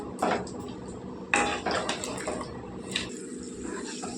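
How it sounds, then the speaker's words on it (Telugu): Potatoes and onions tossed in a pan for capsicum curry, with metallic clanks and scrapes of utensil against pan in a few distinct bursts, ending with a knock like a lid set down; close and moderately loud. "ఇవి బాగా కలిపేసుకొని మూత పెట్టి మగ్గించుకుందాం."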